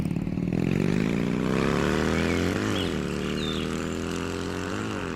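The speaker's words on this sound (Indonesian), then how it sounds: "Tiba-tiba, sebuah motor maju cepat dan ugal-ugalan ke arah mereka." A motorcycle speeds recklessly toward people in a dramatized roadside scene. Its loud, close engine drones steadily, and the pitch rises and dips through several throttle changes with no voices.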